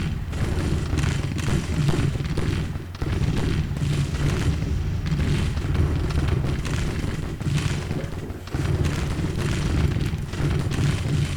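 Repeated heavy booms of Civil War-era artillery counter-battery fire in the strategy game Grand Tactician: Civil War, loud rolling cannon blasts layered almost continuously with brief dips between volleys and no voices.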